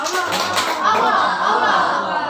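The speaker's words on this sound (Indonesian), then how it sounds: "Ya kita beri tepuk tangan dulu." Schoolchildren in a classroom clap together in a 'tepuk semangat' spirit clap, a fairly loud, steady burst of many hands with children's voices mixed in.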